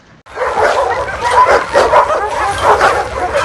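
A gentle rescue dog gives a run of close, loud, excited yips, whimpers and bow-wow barks, coming in quick uneven bursts for several seconds.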